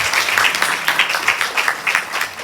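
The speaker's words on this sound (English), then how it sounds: "Another round of applause, please." Close, lively applause from a symposium audience, crisp clapping with rhythmic swells, running throughout with no talk.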